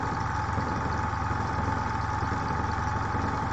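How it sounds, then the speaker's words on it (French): Small tankless air compressor for an airbrush running nonstop, a constant loud motor hum and buzz with steady vibration, close by and alone, cutting off at the very end. "les compresseurs sans cuve, c'est facile, donc c'est juste un moteur, ça envoie de l'air, ça tourne, ça fait du bruit tout le temps"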